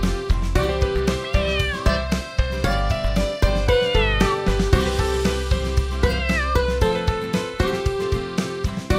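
A cat meowing within a cheerful children's nursery-rhyme song, its calls sitting among steady music with piano and sung melody throughout, fairly loud and continuous rather than heard alone.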